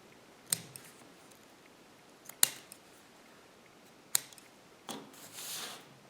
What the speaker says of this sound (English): Cut out some slightly longer ones this time.